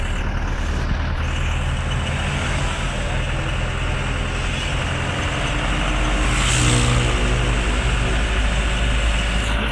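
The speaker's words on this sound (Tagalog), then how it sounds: "Maraming sasakyan dumadaan." Steady traffic on a roadside near a gas station, many cars and trucks rolling past in a continuous loud wash of engine and tire noise, with one heavier vehicle swelling closer toward the end.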